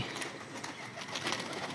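A pigeon arrives and gives a short, soft coo in a noisy outdoor setting. The call is faint and mixed into a hiss of background sound.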